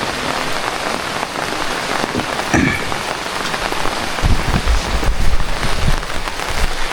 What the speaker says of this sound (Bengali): বর্ষাকালের মতো বৃষ্টি হচ্ছে